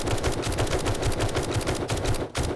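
Rapid automatic gunfire in the 7 Days to Die video game, rounds fired at zombies in a steady, dense burst that runs nearly unbroken, loud and close, with a brief break near the end.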